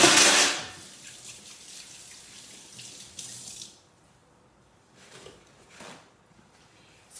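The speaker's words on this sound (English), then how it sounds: "And now I'm gonna wash my hands" Hands washed under a running kitchen tap, with a loud rush of water at the start that settles into a softer steady flow, then a few brief splashes near the end.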